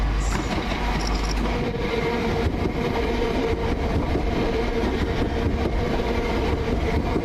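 A Stansted Express Class 379 electric multiple unit arrives at a London station, a steady loud roar of wheels and rail running throughout with faint squeal and clatter.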